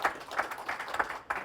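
Faint applause at an event, a small crowd clapping in quick, fairly even bursts at a distance.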